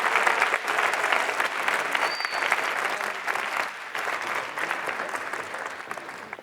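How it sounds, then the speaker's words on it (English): Sustained audience applause for award winners at a CSEdWeek 2019 kick-off event, dense steady clapping from a large crowd throughout, with no speech over it. "Can we give them one more round of applause"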